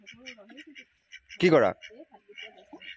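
A single harsh, loud quack from a domestic duck bursts out mid-clip, set against ongoing conversational talk from people nearby.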